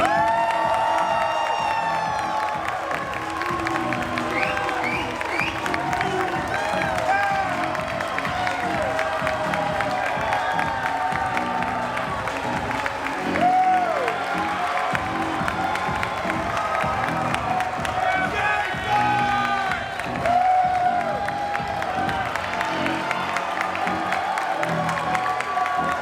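A festival audience at a birthday film festival cheers, whoops and applauds loudly for the filmmakers, a sustained roar of clapping and high shouts from adults and children that barely lets up.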